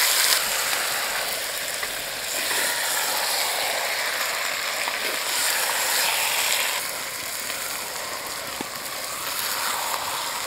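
Duck meat sizzles loudly in a pan with fried onions, a steady, dense frying hiss and crackle that holds for several seconds, close and continuous.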